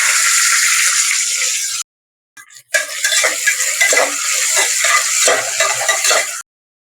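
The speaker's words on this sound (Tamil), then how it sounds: "வெங்காயம் வந்து நல்லா இந்த எண்ணெயிலேயே கோல்டன் கலர்ல வர வரைக்கும் நம்ம நல்லா ஃப்ரை பண்ணி எடுக்கணும்." Onions frying in oil inside a pressure cooker with spices for mutton biryani: a steady loud sizzle runs for a couple of seconds, breaks off, then returns with scattered clinks of a spoon against the metal pot, no voices.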